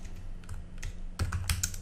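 Keys tapped on a computer keyboard while entering a git log command in a terminal, a few scattered quiet clicks followed by a brief quicker burst of keystrokes, close and faint with no talking.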